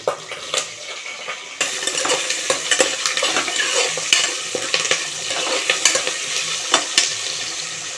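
Green chillies, curry leaves and potatoes sizzle and fry in a pan for veg biryani, with steady hiss broken by repeated clinks and scrapes of a spoon stirring against the metal, close and fairly loud.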